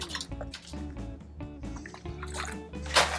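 Lemon juice pours for a bourbon cocktail in quick, splashy trickles and drips, close and fairly quiet, with glassware clinks and a brighter splash near the end.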